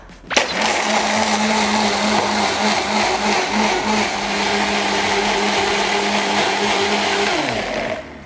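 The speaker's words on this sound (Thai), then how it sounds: "แล้วเราก็จัดการปั่นได้เลยค่ะ" A blender whirs loud and steady, crushing ice and milk for a strawberry milkshake, running continuously for several seconds and then winding down and stopping, with no voices.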